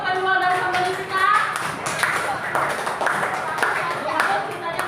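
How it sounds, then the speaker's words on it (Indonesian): A group claps in a classroom-style gathering to applaud two people playing buyers, scattered hand claps mixed with chatter and voices talking throughout. "Tepuk tangan dulu untuk kedua dari pembeli kita."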